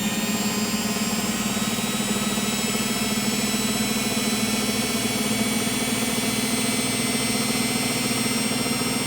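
A Zanussi slimline top-loader washing machine motor runs on test, humming steadily and loudly, a constant whirring drone with a low mechanical buzz, close by and unchanging, no voices.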